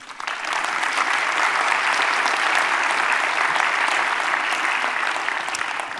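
An audience at a business conference gives steady, dense applause for Stéphanie, a full room clapping continuously at an even level from start to finish.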